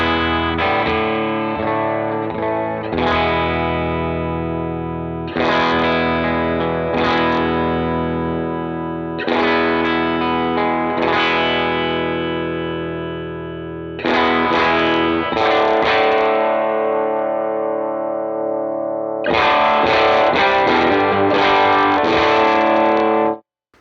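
Electric guitar played through a REVV D20/D25 tube amp with the bass turned all the way up, giving loud, thick distorted chords struck in repeated bursts that ring out between hits, with no talking.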